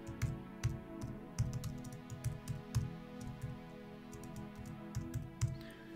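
Typing on a computer keyboard while text is entered in a video editing program, with quiet, irregular key clicks in short bursts and brief pauses.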